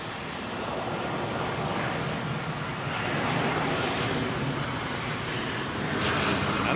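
A jet airliner aborts its landing and goes around over runway 27L at London Heathrow, the engines giving a loud, continuous roar that holds steady and swells slightly toward the end, with no voices.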